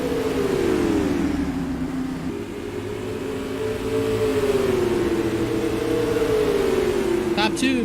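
Winged supermodified race cars lap Indianapolis Raceway Park in Clermont, Indiana, a continuous droning engine whine rising and falling with a high-pitched rev near the end, loud and steady under a commentator talking throughout.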